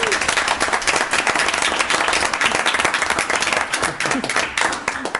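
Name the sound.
council meeting audience applauding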